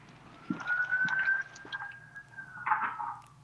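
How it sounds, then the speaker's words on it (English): A siren wails in the background during an online meeting, a steady rising-and-holding tone lasting a few seconds, fairly faint and distant, with small clicks and bumps nearby. "There's a siren."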